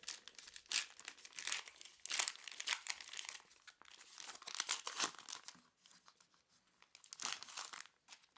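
A vegan-friendly, milk-free organic chocolate bar packet is torn open, giving repeated close crinkling and tearing bursts of wrapper foil and paper over about eight seconds, with no talking.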